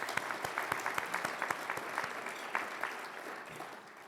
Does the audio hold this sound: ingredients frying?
no